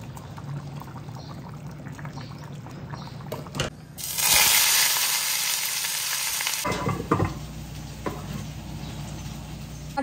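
Okra and potatoes, then bitter gourd and pumpkin, frying in a pan with a quiet sizzle, and a loud burst of hissing for a few seconds as food or oil hits the pan, then settling back to a low fry.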